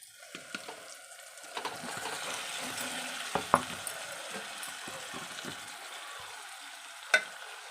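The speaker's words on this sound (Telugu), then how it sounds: "ఎగ్స్ అయితే మనం అందులో వేసుకుందాం" Eggs sizzle and fry in a pan for egg curry, a soft continuous crackle with scattered clinks and scrapes of stirring.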